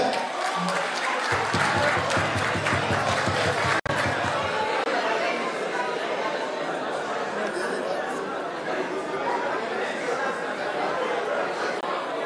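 Audience clapping at a Guinean independence anniversary celebration in Manchester, a sustained wash of applause mixed with crowd chatter and some laughter, continuing steadily while people talk throughout.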